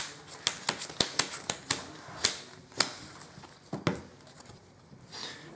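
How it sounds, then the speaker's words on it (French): Five cards drawn one after another from a Weiß Schwarz trading card deck, sharp close snaps and light slides in a quick irregular run, then a few softer shuffling touches. No voices. "au début du jeu, vous pêchez donc 5 cartes."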